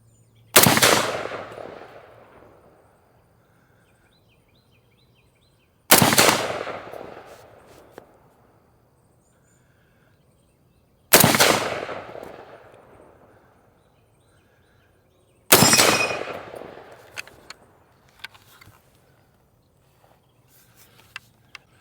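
Four loud rifle shots from a CMP M1 Garand at an outdoor range, evenly spaced about five seconds apart, each cracking sharply and fading into a long echoing decay, with no talking.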